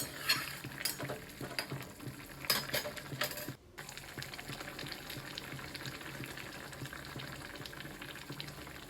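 Rohu fish pieces stirred into a boiling curry for a Bengali rui kalia: steady bubbling under occasional clinks and scrapes of a spoon against the pot, with a brief dropout midway.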